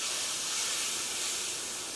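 Cream sauce with red bell pepper, paprika and garlic simmering, a steady close hiss and soft bubbling that holds evenly for the whole two seconds.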